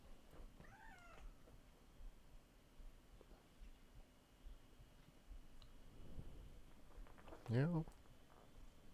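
A cat meows a few times in a quiet indoor room early in the morning during a live stream, with short mid-pitched calls near the start and a louder, closer meow toward the end, over faint background noise.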